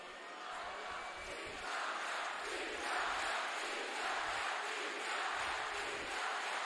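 Crowd at a women's water polo gold medal game between Italy and Hungary in Napoli roars and jeers loudly and steadily throughout, a dense wash of many voices rising and falling.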